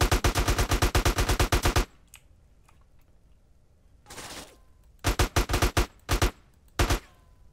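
Gunfire in GTA: San Andreas Definitive Edition: loud, rapid automatic bursts, a long opening volley, a pause, then several short sharp bursts.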